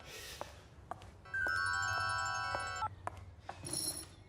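A phone ringtone rings loudly for over a second, a steady electronic melody, with a few short clicks around it and a brief second burst at the end in a quiet indoor room.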